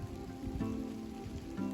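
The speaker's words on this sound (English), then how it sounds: "I gotta go, it's raining." Rain patters steadily through the woods, a dense, even hiss with soft drops close by and no voices.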